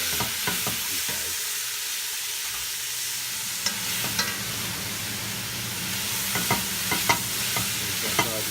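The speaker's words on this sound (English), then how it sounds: "We're going to saute these down." Leeks sautéing in olive oil with salt, a wooden spoon stirring them: steady close sizzle with repeated scraping clicks and knocks of the spoon against the pot, louder bursts of stirring toward the end, no talk.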